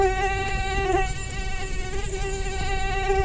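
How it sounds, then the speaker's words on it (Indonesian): Close, continuous high-pitched whine of a mosquito buzzing in flight, steady and insistent with slight wavering in pitch, heard alone. "Nyamuk."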